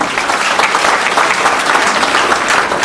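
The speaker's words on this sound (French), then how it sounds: "Those who are sitting and clap too now." Loud, steady applause from a church congregation, a dense wash of clapping hands that continues evenly throughout with no voices standing out.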